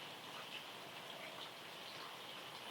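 Steady rain falls during a quiet yoga session, a soft even broadband patter with no distinct drops standing out, continuous and fairly faint throughout, with no voices.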